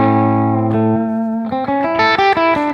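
An electric guitar on its bridge humbucker with distortion plays loud and alone, holding a long growling low note before moving into a quick rising run of gritty, sustained notes.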